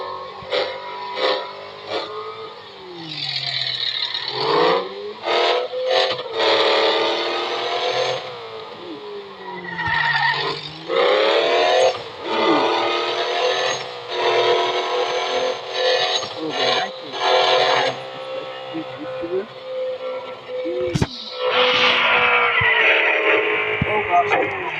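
Engine revving and tires skidding as an abandoned truck with a newly installed bumper is test driven, with repeated rising and falling engine pitch and scraping bursts, loud and close throughout, with a voice talking over it.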